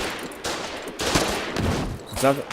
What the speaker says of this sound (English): So me taking pot shots at him at this range will not do anything